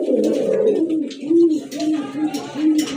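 A pair of red Rajgolla pigeons with head crests coos in repeated low, rounded calls that sit close and fairly loud, with slight background noise and no one speaking.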